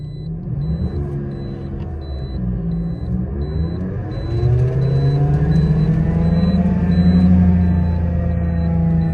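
Steady car engine idling with a low rumble, swelling a little louder midway, with a faint rhythmic grinding hum from a worn left-side wheel bearing running underneath.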